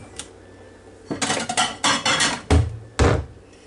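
A knife chops through soft chicken-and-dumpling dough on a cutting board in a series of close, firm thuds and taps, several quick cuts in an irregular rhythm with short pauses, no voices.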